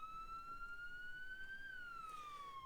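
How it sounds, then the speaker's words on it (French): Police car siren in the Arma 3 roleplay game, a single wailing tone slowly rising and then falling, clean and faint with no other sounds. "Il y a le code 3 qui permet d'activer donc les sirènes."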